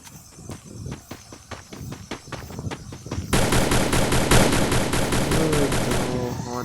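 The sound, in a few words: gunfire in a CS video game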